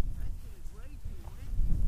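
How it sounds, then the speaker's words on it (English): Gusty wind buffets the microphone in low, uneven bursts outdoors while a person talks over it. "it's way too windy out here to try to fly these things"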